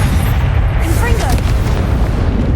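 Confringo explosive spell from Hogwarts Legacy, a dense, loud, continuous roaring blast with rumbling low end and a bright burst near the middle, chaotic combat noise throughout.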